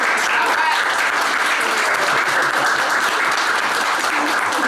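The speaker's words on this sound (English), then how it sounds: "Please join me in another big round of applause for" A big round of applause from the crowd at a Women's History Month gathering at the Moller House, steady and dense throughout with no break, close and fairly loud.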